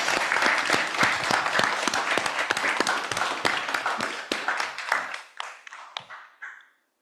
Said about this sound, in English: just another big clap for everyone